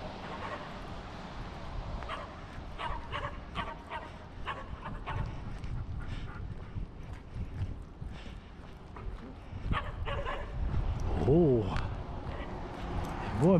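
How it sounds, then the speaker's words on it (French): Small dogs bark in short, scattered yips during an outdoor walk in Beresford, New Brunswick, with someone talking over them and footsteps nearby. "Oh, les petits chiens là-bas."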